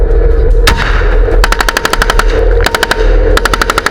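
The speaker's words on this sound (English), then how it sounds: "Cover fire from the BMD-2's 30mm automatic cannons provided essential support as the soldiers established their foothold." Automatic 30mm cannon fire from a BMD-2 in combat pounds out in rapid, evenly spaced bursts of loud, sharp reports with echo, separated by brief pauses, with no voices.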